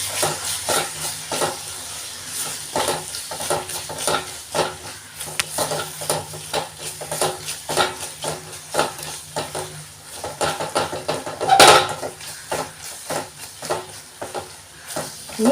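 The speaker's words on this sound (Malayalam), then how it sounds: "വീണ്ടും മിക്സ് ചെയ്തിട്ടെടുക്കുക" Mushroom masala gravy being stirred in a pan, with repeated scraping strokes of a spoon against metal over a low, soft sizzle and an occasional sharper clink, close and fairly quiet, with no talking.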